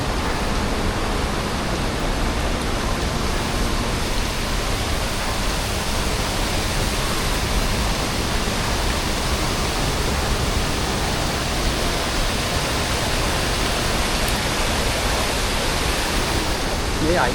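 Puna Ella waterfall at Ramboda sends a dense, unbroken roar of rushing water, loud and close, with no break in the flow.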